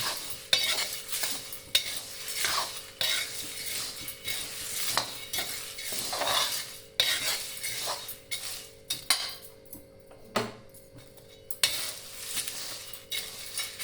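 Dry neem, turmeric, chana dal and green gram are stirred in a hot kadai, giving repeated scraping and rattling strokes of a spoon against the pan with a faint sizzle, close and fairly quiet.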